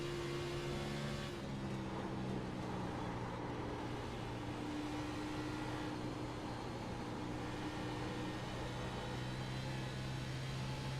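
A NASCAR race car engine in a racing video game at Watkins Glen holds a steady, loud drone with sustained tonal harmonics through the whole stretch, shifting pitch slightly as the car laps, with no talk over it.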